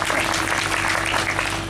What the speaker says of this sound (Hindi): जोर की तालियों के साथ अभिनंदन।